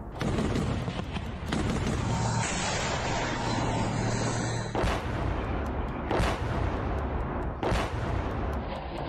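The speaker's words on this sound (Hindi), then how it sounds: "वीडियो में यूक्रेनी सेना की एक गाड़ी दिखाई दे रही है और अचानक एक धमाका होता है" A blast from an explosive charge destroying a bridge in Ukraine war footage, heard as sustained loud broadband roaring and rumbling with sharp bursts around the fifth, sixth and eighth seconds, with no talk.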